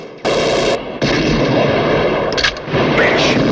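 Loud, dense gunfire and explosive blasts from the final shootout of the film The Wild Bunch roar in heavy bursts with brief gaps, sounding like a full battle.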